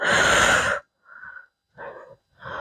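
Rhythmic breathing during a workout cool-down: one long, loud, breathy exhale followed by three shorter, softer breaths, each separated by a brief silence, with no talking over them.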